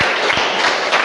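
A class clapping hands four times together: a short, dense burst of many hands striking at once, loud and close.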